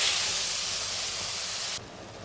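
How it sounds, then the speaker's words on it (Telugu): Tomatoes dropped into a pan of fried onions give a loud, broad sizzling hiss that holds steady, then cuts off abruptly to a quieter simmer. "ఇప్పుడు టమాటా వేసానండి."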